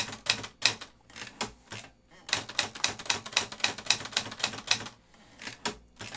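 Keys clack on a vintage 1963 Olivetti Studio 44 manual typewriter, sharp close strikes coming in quick uneven bursts with short pauses between, loud and alone.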